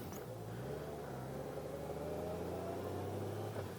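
A Honda Gold Wing motorcycle cruising along, its steady engine drone and road rumble continuous and close, with a low hum shifting slightly in pitch as it rides.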